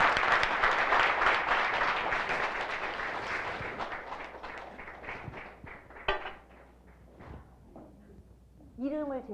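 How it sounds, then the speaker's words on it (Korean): Audience clapping to welcome a speaker at a business presentation. It opens loud and dense, then thins out and fades, followed by a few scattered sounds and a brief voice near the end. "박수로 맞아주시죠."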